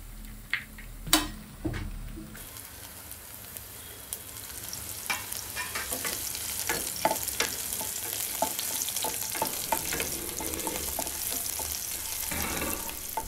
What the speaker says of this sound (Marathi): आता मी अंडी अशी बाजूक पॅनवरच अशी फोडते आणि अशी मधल्यामध्ये घालते